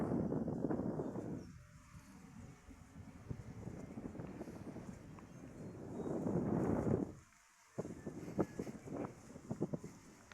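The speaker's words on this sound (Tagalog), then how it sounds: "Medyo malakas na yung hangin" Strong wind by the Aklan River buffets the microphone in heavy low rumbling gusts, dropping briefly before surging again, with faint water or boat noise underneath.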